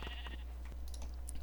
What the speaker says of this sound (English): There we go, there's a sheep.